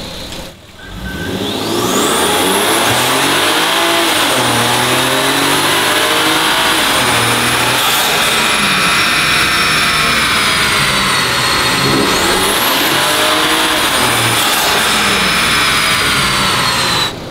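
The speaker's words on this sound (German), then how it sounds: "kannst du den auf dem Prüfstand jetzt gerade aus dem ersten oder zweiten Gänge durchschalten?" A Toyota Aristo with a twin-turbo 2JZ engine and automatic gearbox roars on a dyno, revving hard and climbing with whining turbos, the pitch dropping briefly at each of two upshifts, loud and continuous throughout.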